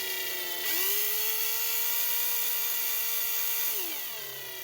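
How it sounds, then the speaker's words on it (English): A drill bores out the plastic rivet post on the base of a Hot Wheels 1972 Chevrolet Vega GT toy car, giving a steady high whine that spins up, holds for about three seconds, then winds down, close and alone. "So we'll carefully drill out this post since it is a plastic base."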